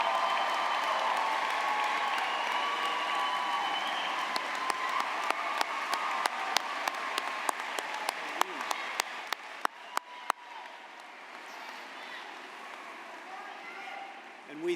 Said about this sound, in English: Graduates, give these folks a round of applause.